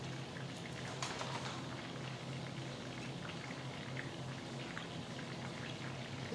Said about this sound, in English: And while these are frying,